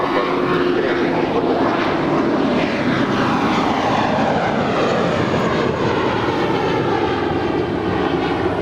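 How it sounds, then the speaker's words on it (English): An Airbus A321 roars down runway 25 right at Los Angeles International Airport, its jet engines a loud, continuous broadband rush that holds steady throughout with no voices. "A321 now rolling down 25 right"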